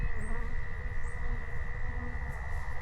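Honeybees hum steadily in an open hive during a Varroa mite inspection, a dense, continuous, close drone with no breaks and no talking over it.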